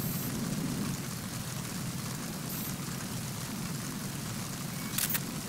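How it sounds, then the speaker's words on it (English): Rain falls steadily in the Metal Gear Solid 2 video game, giving a soft, even hiss at low level, with a short, sharper burst near the end. "it's raining and everything else."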